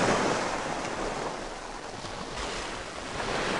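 Ocean waves wash onto a seashore in a steady, loud, broadband roar, with some wind buffeting the microphone and no voices.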